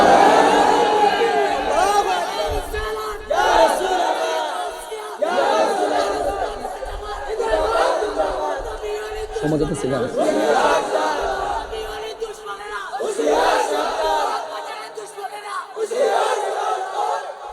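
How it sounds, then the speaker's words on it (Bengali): A large crowd at a religious waz gathering chants slogans with raised hands, loud surging shouts repeating in rhythmic bursts every couple of seconds, with a leader's voice mixed among them. "দুই হাত তুলে স্লোগান লাগান ইনশাআল্লাহ"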